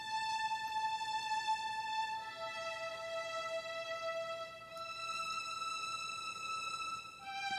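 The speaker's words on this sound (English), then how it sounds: "And then I have the Appassionata violins by Spitfire Audio" High-register violins from the Spitfire Audio Appassionata sample strings library, held sustained notes that change pitch every couple of seconds, quiet and alone.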